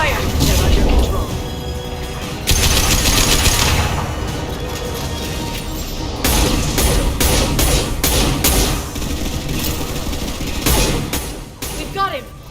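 Gunfire in the video game Mass Effect: Legendary Edition, loud sustained bursts of weapon fire mixed with thuds and crashes across the whole stretch, with voices shouting over the battle.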